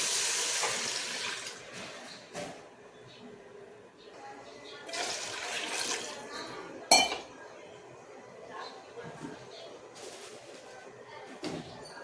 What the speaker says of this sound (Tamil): தண்ணி 2 மடங்கு ஊற்றிக்கிறேன்.